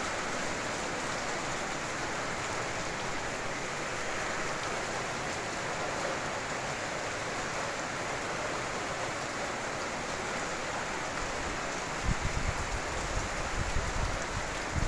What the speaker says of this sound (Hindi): क्या नज़ारा है बारिश का।